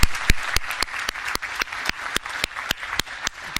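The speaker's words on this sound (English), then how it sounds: "Can I have a round of applause for my actors?" Audience applause for actors at an AEM networking event, fairly dense but light and a little uneven, with a few louder individual claps standing out through the short burst.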